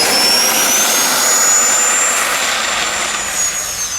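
An FMS Rafale 64mm RC jet takes off from a short, bumpy stretch, giving a loud, steady, high-pitched jet whine that holds close and strong throughout, easing slightly at the end.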